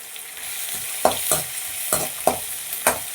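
Chopped garlic and Kashmiri chili frying in oil in a pan, with a steady sizzle broken by about five distinct scraping stirs of a spoon at regular intervals, close and clear with no talking.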